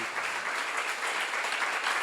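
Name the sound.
audience applause in church seminar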